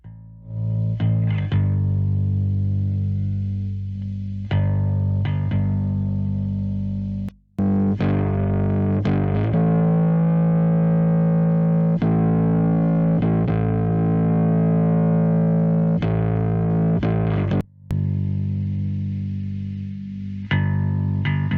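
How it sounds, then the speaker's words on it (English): Bass guitar run through an amp simulator in a home studio mix, producing thick, gritty distorted notes played in phrases with short gaps and slides between sustained tones. "So we could go with an amp simulator."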